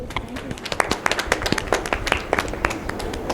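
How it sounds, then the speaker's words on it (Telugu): Scattered hand claps from an audience at a reunion gathering, a loose uneven patter of claps at moderate distance, with some voices murmuring underneath. "So please claps for that."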